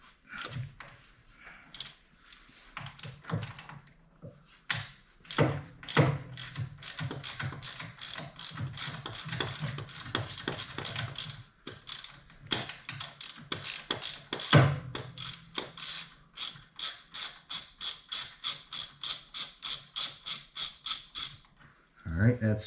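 A ratchet fitted with a T45 Torx bit works a bolt loose on a Harley-Davidson Dyna Wide Glide, long runs of rapid clicking pawl strokes, close and loud, with pauses and a brief squeak between bursts.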